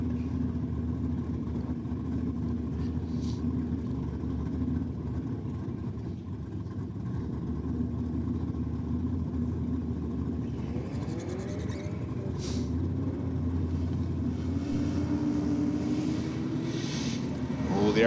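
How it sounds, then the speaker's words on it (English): Two Holden Commodore drag race cars idle and rumble at the start line, a steady engine drone with a rising rev toward the end, heard from a distance. "Pair of Commodores on the start line here now."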